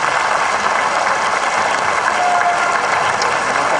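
A comedy show audience claps in steady, dense applause that fills the room, loud and continuous with no break.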